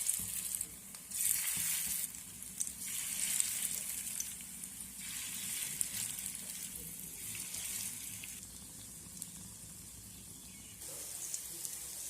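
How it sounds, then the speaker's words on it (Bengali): Pumpkin flower and egg fritters fry in hot mustard oil in a frying pan on a gas stove. A faint, continuous sizzle swells into brighter bursts every few seconds, with no talking. "বড়াগুলো ভেজে নেওয়ার জন্য গ্যাস অন করে একটা ফ্রাই প্যান বসিয়ে দিয়েছি।"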